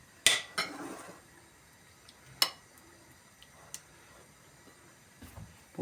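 Eggs stirred into a creamy yogurt sauce with a spoon, giving a few sharp clinks and scrapes against the bowl, loud and close with quiet gaps between, no talking.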